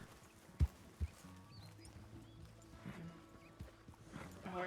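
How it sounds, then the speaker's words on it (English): Horse hooves clip-clop in a RedM roleplay game, with two sharp, loud thuds early on, then a softer scuffle of hooves, an antsy thoroughbred shifting about under a low background hum. "The horse is very antsy."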